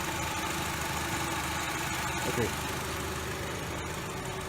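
A Honda HR-V's 1.8-litre R18A1 SOHC i-VTEC engine idles close by with a steady, unchanging rumble throughout.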